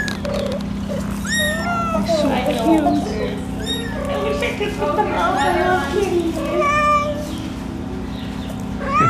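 Small kittens beside their mother cat on a farm in Libertyville, Illinois, meow repeatedly in high, squeaky cries, close by, while a person speaks softly over them.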